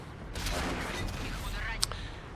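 Tank gunfire in a tank combat game, with muffled booming rumble under a faint voice and a single sharp crack near the end.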